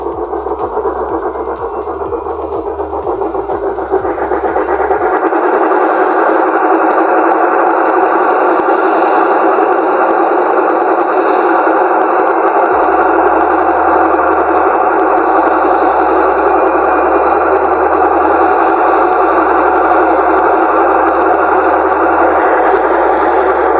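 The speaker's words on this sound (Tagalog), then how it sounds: "napakaingay pag umaandar na yung spin niya guys" An automatic washing machine with a drum problem runs its spin cycle noisily: a loud, continuous whirring roar with a harsh mechanical edge that holds steady throughout, with no voices.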